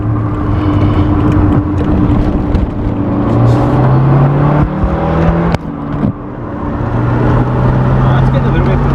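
Loud and near, a Mazda 929 Turbo Coupe's engine runs under load on the road, its tone wavering and surging unevenly, with road rumble and a few sharp knocks mixed in.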